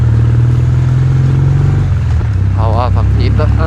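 A 2021 Kawasaki W800 parallel-twin motorcycle rumbles loudly up close, then drops its revs mid-way as someone speaks over the engine noise.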